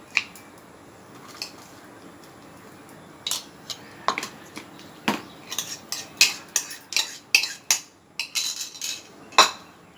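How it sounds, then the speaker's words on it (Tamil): Eggs being beaten with chopped vegetables for a bread omelette give sharp utensil clinks against a bowl, sparse at first, then a quick, close rhythmic run of taps. "இது வந்து நல்லா நுர வர மாதிரி நல்லா அடிச்சு விடுங்க"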